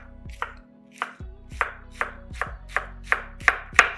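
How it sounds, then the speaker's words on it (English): A knife chops red cabbage into thin strands on a cutting board, giving eight or so crisp, evenly spaced cuts. Each stroke rings out close and clear against near silence. "And then I'm just gonna cut this into roughly an eighth of an inch"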